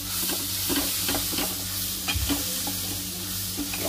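Chopped onion frying in a pan for dal tadka makes a continuous close sizzle, with intermittent clattering stirs and scrapes of a spoon. No voices are heard.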